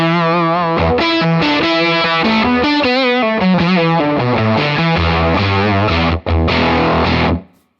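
An electric guitar played through a Fractal octave fuzz effect, a loud, thick distorted tone with buzzing doubled-octave harmonics, notes and chords ringing continuously before cutting off abruptly near the end.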